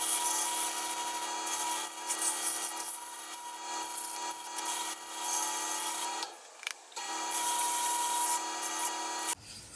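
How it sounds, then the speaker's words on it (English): Steady, close abrasive rubbing of sandpaper on a turned wooden hammer handle, continuous strokes with a couple of brief pauses near the end. "Got sheets of sandpaper here. I'm just gonna go through, smooth this out as much as possible."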